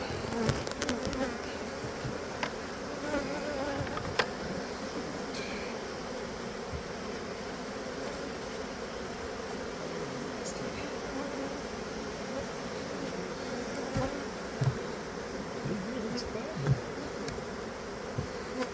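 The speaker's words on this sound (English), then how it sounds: "There's a lot of bees trying to get in and out." A dense, steady buzz of many bees at a hive entrance fills the whole stretch, continuous and close, with faint rustling and occasional small knocks beneath it.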